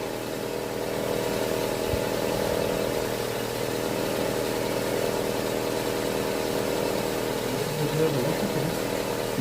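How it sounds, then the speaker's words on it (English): A Nissan Almera 1.5 car engine idles with a steady, even mid-pitched hum and whir that stays constant throughout, with no talk. "Alright, so car's idling."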